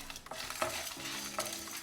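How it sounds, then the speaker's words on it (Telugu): Chana dal, urad dal and dried red chillies dry-roasting in a pan without oil, with a steady rustling scrape from close, continuous stirring and a soft, light sizzle throughout. "వీటిని చక్కగా వేయించుకోండి జస్ట్ ఆయిల్ ఏం అవసరం లేదు"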